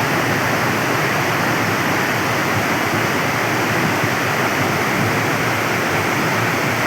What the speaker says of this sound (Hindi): बाईपास से निकलता हुआ पानी, इस पानी की स्पीड आप देख सकते हैं